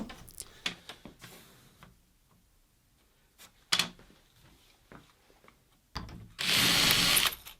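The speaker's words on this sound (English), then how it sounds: "we can drill the hinge screws with a self-centering bit" Short clicks and handling noises lead into a loud, steady burst of a power drill with a self-centering bit whirring near the end as it drills hinge screw holes.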